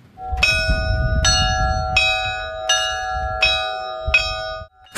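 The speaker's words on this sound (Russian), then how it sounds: "Впервые почти за 100 лет над селом Малахово разносится колокольный звон" Church bells ring out over a village in Malakhovo, a series of about six loud struck peals with long ringing overtones, evenly spaced and close, with no voices.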